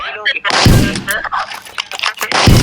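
Gunfire in a haunted anomaly video game, several loud, sharp shots in quick bursts, with game sounds and effects between them.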